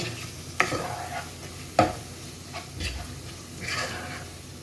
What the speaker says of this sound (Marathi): यातच आपल्याला बिर्याणी मसाला घालायचा आहे. 2 चम्मच मी बिर्याणी मसाला घातला आहे. व्यवस्थित मिक्स करून घेऊया.